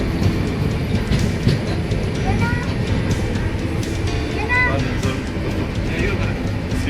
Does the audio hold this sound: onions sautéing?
no